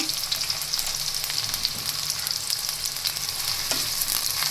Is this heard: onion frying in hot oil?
yes